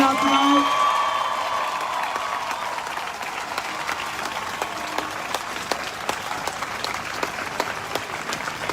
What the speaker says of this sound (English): Can we give another applause for all the black women speakers who came out tonight?